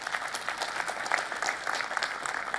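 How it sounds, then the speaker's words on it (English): Conference audience at a tech keynote breaking into dense, steady applause, many hands clapping at moderate distance without a break. "So round of applause on that."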